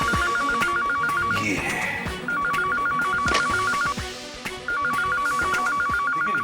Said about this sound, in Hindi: लेकिन बेल तो बज रही है।